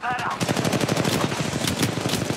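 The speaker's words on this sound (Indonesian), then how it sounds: "Ada tembakan dari sana." Rapid automatic gunfire in the mobile shooter Apex Legends Mobile, with fast bursts of shots rattling steadily and loudly across the whole moment.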